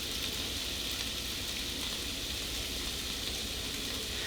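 Picadillo with ground beef simmers in a pan, giving a steady even sizzle and hiss with no talking over it.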